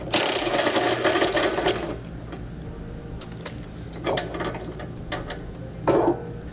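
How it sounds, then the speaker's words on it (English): A 15/16 socket wrench works loose the large bolt holding the hitch ball adapter on a 2017 Tesla during an EcoHitch receiver install. About two seconds of dense, rapid ratcheting is followed by sparse, scattered metallic clicks. "You'll need a 15/16 socket to remove the large bolt that holds it in place."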